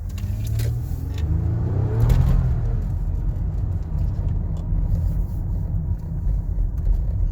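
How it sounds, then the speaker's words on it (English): A 2006–2017 Toyota Camry engine, its mass air flow sensor just cleaned, revs up from idle in a steady, loud rumble that swells briefly around two seconds, then holds a sustained drone with no talking. "And from here, I'm going to rev the engine a bit."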